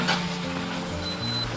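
Golden pompano frying in a pan just after being flipped, a continuous close sizzle with a faint low hiss and a brief thin whistle-like tone partway through.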